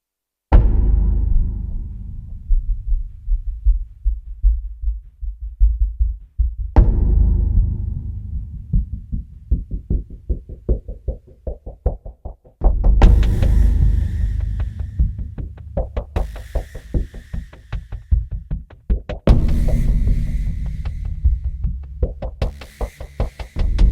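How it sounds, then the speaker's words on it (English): Solo bass line from dark, tense true crime podcast music: deep low notes swelling and decaying, later joined by a steady pulsing rhythm with sharp percussive hits, loud and alone with no voices. "So we have a bass here. So let's solo the bass."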